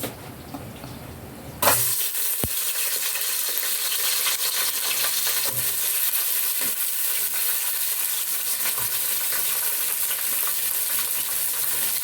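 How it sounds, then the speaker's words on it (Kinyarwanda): Broccoli hits a pan with a little hot oil and bursts into a loud, steady sizzle that continues unbroken, with occasional small pops and clinks of the pan, after a quieter moment. "nshyizemo amavuta makeya yo gukarangisha za brokoli"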